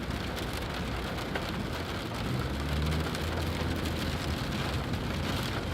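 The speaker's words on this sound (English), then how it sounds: "I understand it's raining, but it ain't like it's torrential rain." Rain while driving on a street in Ohio, a continuous hiss of rain on the car with a low engine and road drone underneath, fairly quiet and even, no voices.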